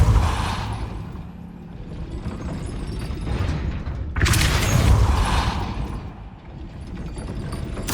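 A heavy gate mechanism in the Hogwarts Legacy video game rumbles and grinds as a Depulso spell raises it, with creaks and a loud booming clank partway through. It is close and sustained, with no voices.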